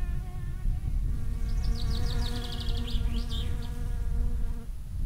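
Flies buzz in the video game My Summer Car as a steady close drone with a tonal whine that wavers in pitch, alongside other game ambience.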